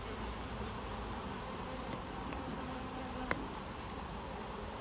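Honey bees moving inside a beehive make a dense, steady buzzing hum, close and unbroken. A single faint click sounds partway through.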